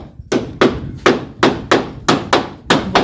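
Nails are hammered while a house is being built, with about nine sharp, ringing strikes in a fairly steady rhythm, loud and close, and no talking.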